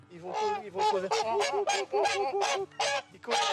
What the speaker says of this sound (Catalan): Aquí tenim els cignes cantaires